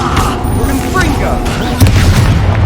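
In Hogwarts Legacy, Confringo blasting spells erupt in dense, booming explosions that run loud and continuous for the whole moment, with a heavier thump near the end and voices mixed into the combat din.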